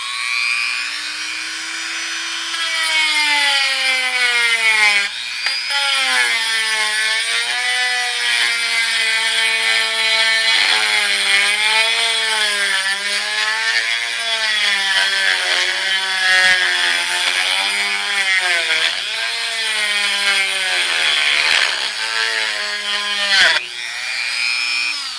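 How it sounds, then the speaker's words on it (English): A handheld Dremel rotary tool whines steadily while cutting spiral grooves into a wood-turned piece, its pitch wavering and dipping as the bit bites and slips on the wood, loud and close for about twenty-five seconds. "See what I mean about the Dremel slipping?"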